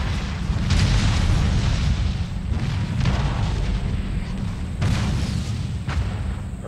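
Artillery and mortar fire in the Empire: Total War battle game, a steady dense rumble of booms with several louder bursts of cannon fire standing out at intervals.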